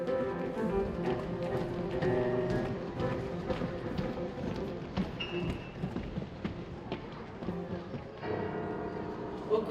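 Solo piano plays a Bach piece with busy ornamented trills and a marching, steady pulse, the notes dense and continuous at moderate loudness with no voices.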